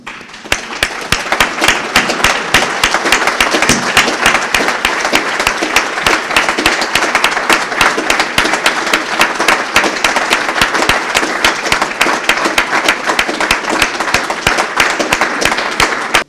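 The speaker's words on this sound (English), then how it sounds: "I would like to invite you all to stand up and applaud as a symbolic gesture of solidarity and respect" Sustained applause from a standing audience at a Kosovo commemoration of the war in Ukraine: dense, even clapping that runs unbroken and loud for the whole stretch.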